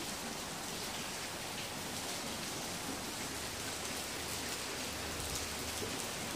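Steady wintry rain falls outdoors, a dense continuous hiss of drops on surfaces with no pauses and no voices.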